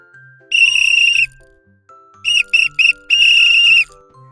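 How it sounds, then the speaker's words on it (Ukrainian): Sharp, shrill whistle blasts: one long blow, then three quick short toots and a final long blast, loud and close. "Це звук тренерського свистка."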